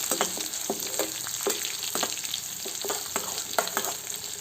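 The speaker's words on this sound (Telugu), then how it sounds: "తర్వాత ఆనియన్స్ వేసి ఫ్రై చేసుకున్నాను." Onions fried in a pan until brownish for a beetroot fry, a continuous close sizzle broken by repeated rhythmic scraping stirs of the spatula, steady and moderately loud, with no talk.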